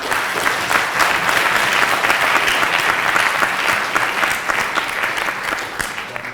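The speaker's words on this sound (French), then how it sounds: "ppelle à la barre Madame la ministre Mascaro sous vos applaudissements" A debate audience at the French national debating cup final applauds as a speaker is called up, a full, loud, steady burst of clapping lasting several seconds.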